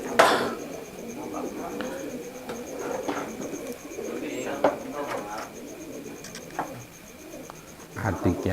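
Pigeons cooing nearby in a breeder's loft, soft repeated coos with a few sharp clicks and flutters, while someone talks throughout.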